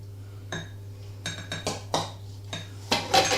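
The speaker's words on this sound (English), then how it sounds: "We take our egg and we add it to our buttermilk." An egg is tipped into buttermilk in a bowl and mixed, heard as a run of clinking knocks and taps of utensil on the bowl, louder and busier toward the end, with no voices over a low steady hum.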